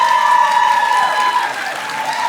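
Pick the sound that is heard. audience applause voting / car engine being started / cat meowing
audience applause voting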